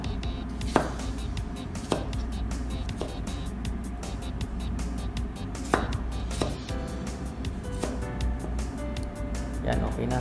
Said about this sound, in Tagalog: next natin gagawin ay maghiwa tayo ng kamatis, ng tomato